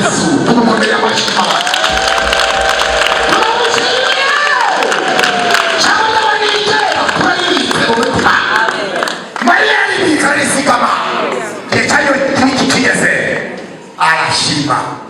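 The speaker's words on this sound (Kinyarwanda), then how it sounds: "Tumukomere amashyi." A church congregation breaks into sustained applause and cheering after a sermon, the clapping dense and close with voices shouting over it. The applause fades toward the end as a speaker continues.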